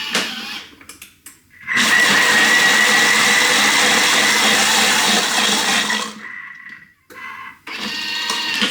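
A blender whirs loudly as it purees Korean sauce ingredients, starting after a brief pause, running steadily for about four seconds, stopping, then starting again briefly; no talking.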